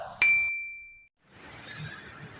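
A single bright notification bell ding rings out sharply and decays over about a second, followed by a brief silence and then a low, murmuring background hum.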